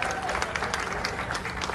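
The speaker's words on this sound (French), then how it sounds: "Soit applaudissement public là" Crowd applause at a celebration marking 55 years of Tabou Kombo, a brief dense burst of many hands clapping with voices mixed in.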